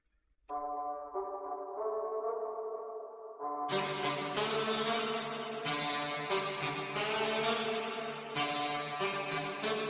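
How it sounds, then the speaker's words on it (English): A saxophone one-shot looped and pitched down an octave for a reggaeton beat: sustained reedy, bassy tones in a repeating melodic pattern, joined partway through by a fuller rhythmic layer, loud and alone without talking. "I actually take a saxophone one shot and make my own loop which sound like this."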